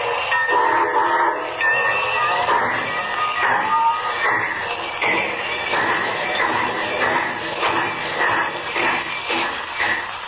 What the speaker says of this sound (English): Unknown to Superman, the train carrying the cargo of gold and Jimmy Olsen starts on its trip